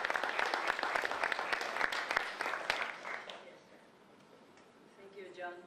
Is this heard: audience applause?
yes